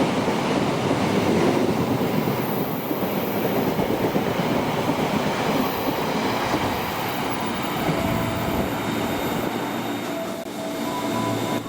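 A passenger train passes close by in a continuous loud roar of wheels and rolling stock, steady throughout with faint squealing tones rising toward the end and no talking.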